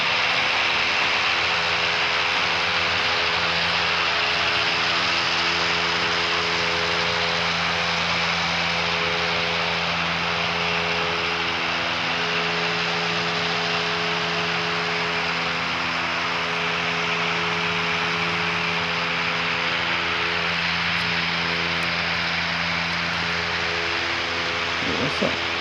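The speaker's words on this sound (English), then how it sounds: "we'll show you the rowdy plane, the one making all the noise" A loud airplane at Christchurch Airport in New Zealand roars steadily and close by for the whole stretch, its broad jet rush layered with droning engine tones and barely changing in level.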